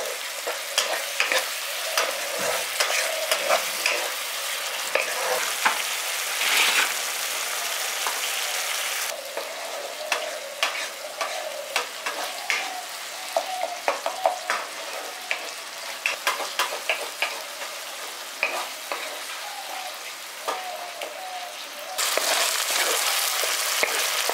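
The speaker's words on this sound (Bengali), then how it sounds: "এবার ভালো করে মিশিয়ে মশলাটাকে কষিয়ে নিচ্ছি" Spice masala for a village-style pabda fish curry fries and is stirred in a pan, with a steady close sizzle and frequent scraping, clicking stir strokes throughout, briefly louder near the end.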